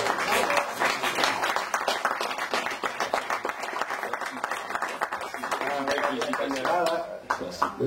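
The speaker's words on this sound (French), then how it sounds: "Surtout les applaudissements." Audience applause at a French medal ceremony for merit and devotion, steady dense clapping filling the room for several seconds, with voices mixed in.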